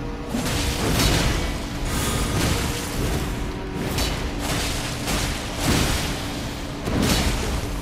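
Booming explosions and crashing hits in Elden Ring Shadow of the Erdtree combat, heavy bursts recurring roughly every second or two over a continuous loud game soundscape.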